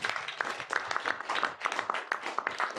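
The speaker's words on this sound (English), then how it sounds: "let's give Lynn a round of applause, please." A short burst of audience applause, many hands clapping at once in a dense, steady patter that fills the room without letup.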